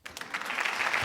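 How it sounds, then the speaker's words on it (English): Audience applause at a conference rises quickly and holds steady as a dense, fairly close wash of clapping, with no voices over it. "Applause for the people behind that specific last question"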